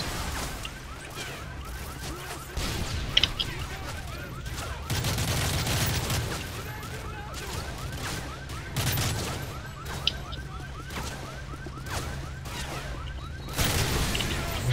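Call of Duty: Modern Warfare 3 explosions, including a Jeep blowing up, and bursts of gunfire crash repeatedly over a steady low engine rumble, with loud blasts around the middle and the end.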